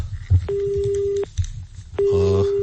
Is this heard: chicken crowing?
no